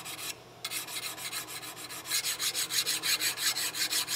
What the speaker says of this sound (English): we can get some of it here with the mill file